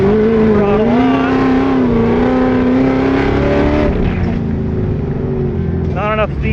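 A car fitted with a Mendeola/Weddle S4S dogbox transmission climbs a steep hill under throttle. Its engine drones loud and close with a steady, slightly rising note, then eases off, and a voice comes in briefly near the end.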